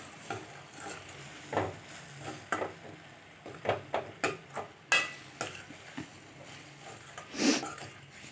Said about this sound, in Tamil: சேர்த்து நல்லா கலரி விட்டுடலாம்.